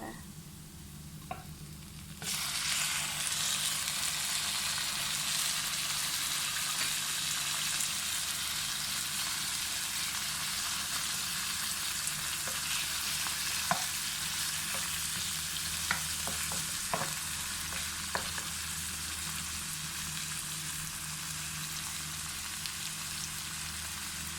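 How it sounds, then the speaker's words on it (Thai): Steady crackling sizzle of sea bass frying with garlic in a hot pan, with occasional sharper pops and spatters over a continuous hiss. "กระทะเริ่มร้อนแล้วเราก็ใส่ปลาลงไปเลยนะคะ"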